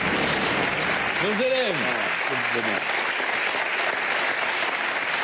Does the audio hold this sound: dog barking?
no